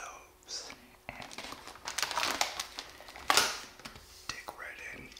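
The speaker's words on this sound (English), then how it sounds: "I know some people don't really like the crinkly noises, but I'm gonna do a little bit of those" Oreo cookie packaging crinkles close to the mic in soft, sporadic rustles, with one sharper crackle partway through, mixed with quiet whispering.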